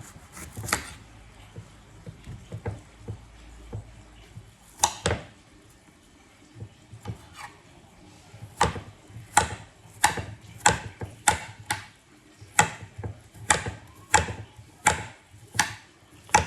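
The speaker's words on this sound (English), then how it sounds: "we're just going to go ahead and chop these into fine slices" A knife slices zucchini into fine slices on a cutting board, sharp crisp chops landing in an uneven rhythm after a quieter start, close and clear with no talk.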